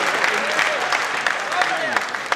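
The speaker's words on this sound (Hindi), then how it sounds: "ताली जोरदार बजा दी।" An audience at a Hindi comic poetry gathering applauds loudly: a steady wash of clapping runs throughout, with a voice speaking over it.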